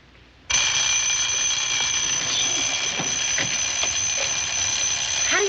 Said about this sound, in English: have an alarm that sounds like Big Ben that can't be turned off